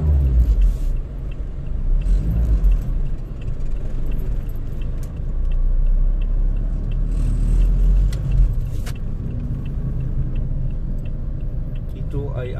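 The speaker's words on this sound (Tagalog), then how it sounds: "Marcos Highway papunta ng northbound" Northbound traffic on Marcos Highway near SM Masinag, Antipolo, Rizal, heard as a steady, loud low rumble of passing vehicles that stays continuous throughout, with faint voices underneath.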